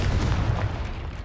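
A Confringo fire spell explodes in the video game Hogwarts Legacy, a short, heavy, low boom that swells loudly at once and then fades over about a second.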